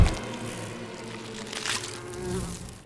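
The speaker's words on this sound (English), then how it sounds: "Bees swarmed through the hole into Ricky's mouth." A swarm of bees drones in a steady, dense buzz with a thin whine riding on top, close and continuous through the moment, with no talking.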